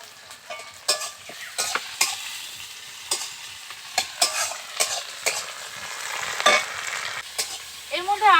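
Onion, tomato and green chili frying in a pan, a gentle sizzle punctuated by repeated sharp scraping strokes of a spoon stirring, close and fairly quiet with no talk.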